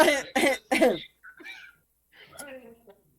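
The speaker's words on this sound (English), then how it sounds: "It's like just random like coughing and loud noises to cover up" Three loud, harsh coughs in quick succession, followed by quieter throat-clearing and gasping noises, all made by a voice to cover up speech.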